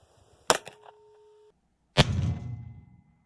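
A sharp FN FNP-9 9mm pistol gunshot with hollow-point ammunition cracks, then a faint tone hums; a second loud shot follows with a rumbling, lingering aftermath. No voices.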